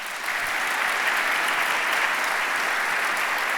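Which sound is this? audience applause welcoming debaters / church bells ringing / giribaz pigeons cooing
audience applause welcoming debaters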